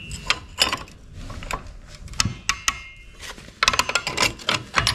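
A wrench loosening parts on a broken BCS fodder cutter machine gives irregular metallic clicks and ratcheting snaps, close and fairly loud, with short pauses between bursts and no voices.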